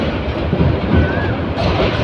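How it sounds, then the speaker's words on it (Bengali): Bolaka Commuter train from Mymensingh pulling into platform 4 at Dhaka's Airport railway station, a loud steady rumble of wheels and carriages with a faint thin squeal partway through. "4 নম্বর প্ল্যাটফর্মে আসলো ট্রেনটি, বলকা কমিউটার ট্রেনটি"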